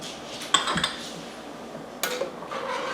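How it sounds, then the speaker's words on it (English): A spoon clinks against a metal pot while baked beans ingredients are stirred on a stovetop, a few bright scraping knocks at a moderate level with no talking. "let's stir that around for just a second"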